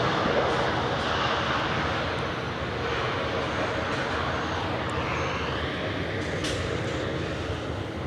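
Southwest Airlines Boeing 737 arriving from LaGuardia at Nashville airport, a broad steady jet roar lasting several seconds, fairly close and even in loudness, with no talk over it.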